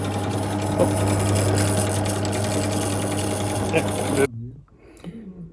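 A small underpowered machine drilling a 12mm hole in a Honda TLR200 motorcycle frame during shock mount repair, a steady mechanical whir with a low hum that runs continuously then abruptly stops, leaving faint movement noise.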